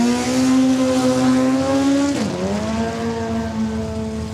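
A 4-cylinder drag race car runs down the track at Saskatchewan International Raceway. Its loud, close engine drones steadily, dips sharply in pitch midway as if shifting, then climbs and holds again.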